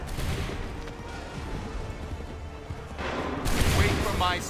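Musket volleys crack out in a battle from Assassin's Creed 3, a dense rolling fusillade of overlapping shots that swells louder near the end, with voices shouting commands over the gunfire.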